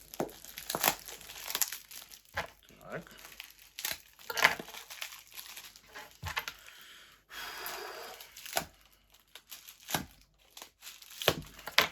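Crinkling and tearing of packing tape and cardboard in irregular bursts, close up, as a parcel is pulled open.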